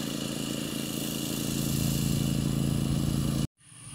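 An autonomous lawn mower's engine drones steadily and loudly up close, then cuts off abruptly near the end, leaving faint background sound.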